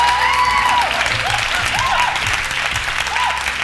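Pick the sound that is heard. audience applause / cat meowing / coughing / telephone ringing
audience applause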